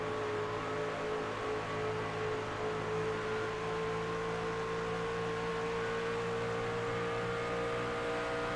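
The 72 Skull Bandit race truck of Jacob Daniels in a truck series at Charlotte Motor Speedway, its engine droning steadily at constant pitch for the whole stretch, fairly distant and even, with no voices.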